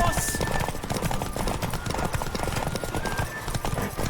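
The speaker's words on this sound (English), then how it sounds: "Don't spare the horse!" A horse gallops in The Witcher 3 video game, its hoofbeats pounding in a rapid, continuous rhythm under a dense, loud mix of game sound.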